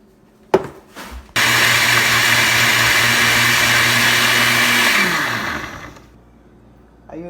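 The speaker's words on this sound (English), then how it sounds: "So I'm going to blend those in the blender." A blender whirs through pineapple core and skins with water, starting after a few clunks, running loud and steady for several seconds, then winding down and stopping.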